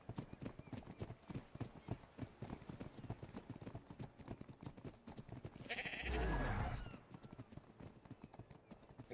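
Horses and sheep move in a video game, with steady, rhythmic hoof clip-clops throughout and a brief loud swell of bleating and whinnying near the end.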